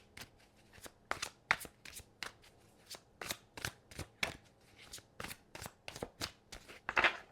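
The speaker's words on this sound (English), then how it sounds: "Now we're going to pull a card from my higher self deck" Tarot cards from a higher self deck being shuffled by hand, a close run of quick crisp riffling bursts in an uneven rhythm, ending in a louder flurry, with no talking.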